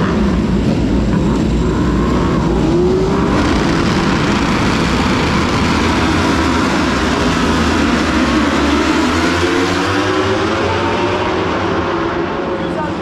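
Superbike race start at the Magny-Cours circuit heard from the grandstand: a loud, sustained wall of engine roar as bikes pull away, with a voice talking over the noise.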